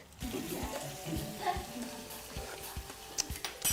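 Food frying in a pan in a home kitchen, a steady sizzle with intermittent stirring scrapes and clinks of a utensil, fairly close and without talk.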